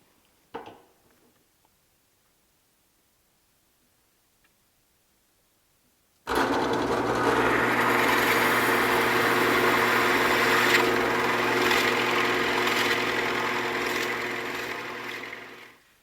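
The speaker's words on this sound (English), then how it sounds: "which is the Forstner bit that I have set up here. So all I'm going to do is just drill that hole" After a short quiet stretch, a drill with a Forstner bit starts up and bores a hole, running steadily and loudly for about ten seconds, a sustained mechanical drone before cutting off.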